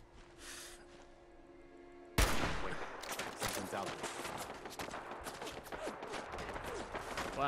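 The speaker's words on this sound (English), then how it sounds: "Oh, it's a turret." An automated turret in the Fallout 4 video game, played on PC, opens fire after a quiet stretch with a sudden loud burst, then keeps up dense, rapid volleys of shots.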